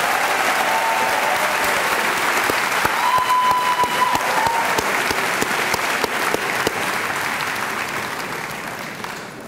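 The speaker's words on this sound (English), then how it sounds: "Please join me in a round of applause for the graduates of the Masters of Information Systems Management Program" Graduates at a 2011 college diploma and awards ceremony receive steady, dense applause from a large audience, holding loud and even before tapering slightly at the end.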